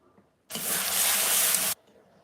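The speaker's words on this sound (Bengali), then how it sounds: "আমি হালকা একটু জল দিয়ে দিয়ে মশলাটা কষাবো" Water gushes steadily from a tap for about a second, added to spices being fried for a jackfruit curry in a home kitchen, loud and close, then cuts off abruptly into quiet room tone.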